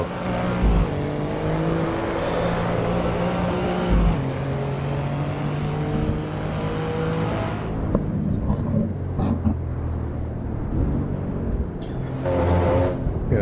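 Race cars in the Assetto Corsa Evo video game heard from outside, engines droning and revving through gear shifts with steady tonal whine, passes fading and returning, loud throughout.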